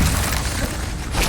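Incendio fire spell cast in the video game Hogwarts Legacy, a short loud whooshing burst of flame with a booming rush that fills the moment, close and alone.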